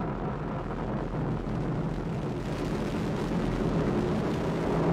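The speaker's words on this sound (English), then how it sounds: "Liftoff of the SpaceX Falcon 9 rocket" A SpaceX Falcon 9 rocket lifting off, a steady loud broadband roar that fills the whole stretch without letting up, rumbling low and hissing high, with no voices over it.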